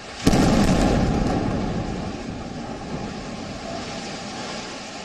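A single sharp blast from an air strike erupts, followed by a long, slowly fading roar and rumble that fills the background.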